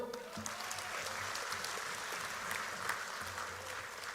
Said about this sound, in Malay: Tepukan untuk Johor